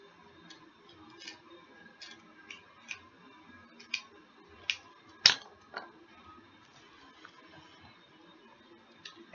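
Scissors snip through material in a dollar-store craft project: a series of sharp, crisp clicks spaced about every half second, close and clear, with one louder snap near the middle and no talking.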